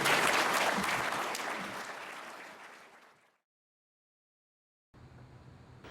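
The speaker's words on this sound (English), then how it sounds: "How about a big round of applause" Audience applause after a public policy forum on Chicago Public Schools finances, a dense burst of clapping that swells loudly at first, tapers away into silence, then returns more faintly at the end.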